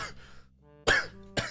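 A person on a live tabletop role-playing game session coughs or clears the throat, two sharp rough bursts close to the microphone with a quieter tonal hum between them.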